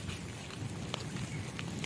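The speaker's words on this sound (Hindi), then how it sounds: "बारिश बहुत तेज़" Steady, dense rainfall in a village hisses continuously, a broad wash of patter with occasional sharper drops, fairly close and even throughout.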